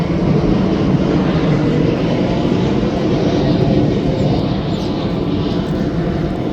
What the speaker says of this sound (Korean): 비행기 날라간다.